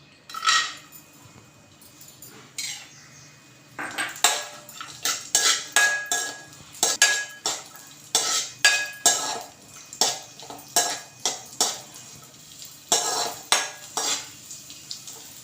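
Raisins and cashews fry in ghee in a pan while a metal spoon stirs and scrapes repeatedly, giving a rhythmic series of clinks and scrapes over a soft sizzle, with no talking.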